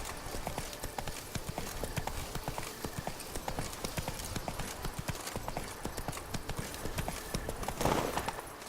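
A horse named Roach gallops in a steady rapid clip-clop of hooves, close and continuous, with a brief louder burst near the end.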